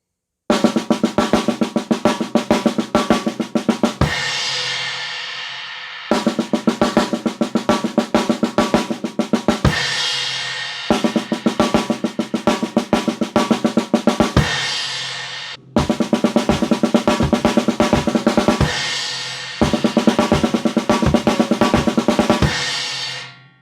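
A drum kit plays a steady rock beat in repeated phrases of about four seconds, each ending with a ringing cymbal wash before the pattern starts again.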